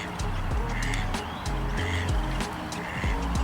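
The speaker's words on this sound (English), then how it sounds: "There are ducks, there are dove, D-O-V-E, and then wild hen. There are other birds too." Ducks, doves and wild hens crowd a feeding spot, with repeated harsh quacks and calls coming in a steady rhythm at close range, layered over outdoor noise.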